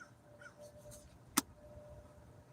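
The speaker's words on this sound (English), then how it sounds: "That crow sound like he said that's right" A single crow caw, one sharp broadband burst near the middle, stands out against a low steady background hum.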